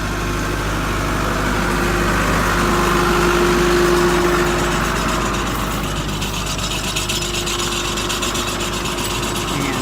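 A farm tractor with a bucket loaded with limestone as counterweight idles and runs steadily on a steep rural road, a continuous low droning engine with a constant hum, close and loud, unbroken for the whole stretch.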